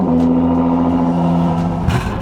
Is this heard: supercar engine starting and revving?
yes